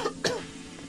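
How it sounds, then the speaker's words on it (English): A single sharp cough bursts out near the start of a golf game session, followed by a faint tail of throat noise and quiet background, with no talking over it. "So I'm not going to edit that cough out."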